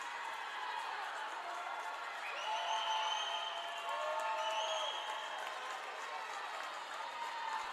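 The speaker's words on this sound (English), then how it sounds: "Crowd really getting after it here." A crowd at a women's 1650 swimming championship cheers and shouts from a distance, a sustained wash of voices and whistles with rising, falling calls layered over a steady hum.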